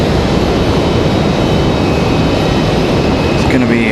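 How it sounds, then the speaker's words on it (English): A Frontier Airlines jet in Hudson the Bog Turtle livery arriving from Denver, Colorado, fills the air with a loud, close, steady jet roar, with chirping sounds near the end. "Frontier 2440 coming in next, coming in from Denver, Colorado."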